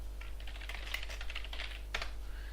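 Typing on a computer keyboard while entering input into a Matlab program, with a brief run of soft, close key clicks and a sharper cluster near the end, with no one talking.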